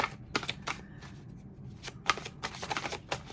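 Tarot cards are handled and drawn from a deck with soft, repeated papery riffles and flicks, close and quiet in a calm room.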